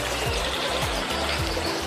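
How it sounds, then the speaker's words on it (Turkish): Stream at Yalova thermal springs, a continuous close trickling and gurgling of flowing water with no talk. "Böyle güzel bir dere de akıyor buradan"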